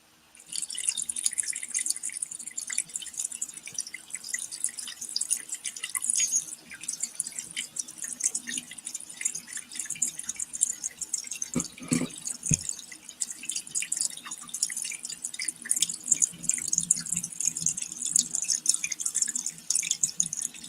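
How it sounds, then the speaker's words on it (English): Water runs from a faucet in a steady hissing trickle, with rapid irregular drips and splashes throughout, close and alone, recorded up close for ASMR. "You just turn on a faucet somewhere and try and get the best sound that you can get."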